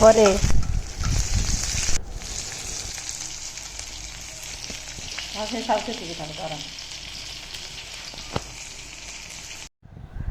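Eggplant and tomato frying in a pan, a steady close sizzle running throughout with stirring scrapes and clatter near the start, then the frying continues alone until a brief dropout near the end.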